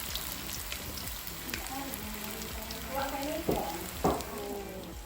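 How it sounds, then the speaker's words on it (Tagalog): Turon, a Filipino banana-and-wrapper snack, sizzles steadily in a hot frying pan, a continuous crackling hiss with a few louder pops near the end, while a voice talks over it. "dahil mainit na yung kawali, ito na yung turon na aming gagawin"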